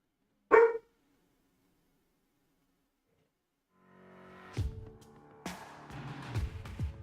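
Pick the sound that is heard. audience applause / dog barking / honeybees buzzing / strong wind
dog barking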